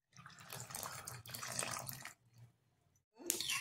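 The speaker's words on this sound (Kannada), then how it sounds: "ಮಿಕ್ಸಿ ಜಾರ್ಗೂ ಸ್ವಲ್ಪ ನೀರು ಹಾಕ್ಕೊಳ್ಳೋಣ." Water pours in short bursts into a mixer grinder jar while making green dosa batter, a close splashing stream that stops briefly, resumes, pauses again, then returns in a final spurt.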